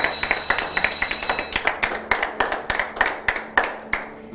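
A group clapping in a steady, even rhythm at a Tamil TV show, the sharp hand claps repeating close and loud over a faint ringing tone at the start.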